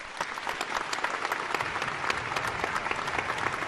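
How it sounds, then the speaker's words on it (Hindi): An audience applauds Colonel V.P. Singh, dense sustained clapping from a large crowd, even and steady throughout, fairly loud and close with no voices standing out. "एक बार इन्हें सैल्यूट भी करिए और तालियां भी बजाइए।"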